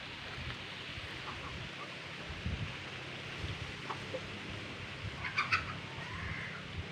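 A rooster crows briefly in the distance, faint over a steady outdoor background hum with a few scattered low thumps.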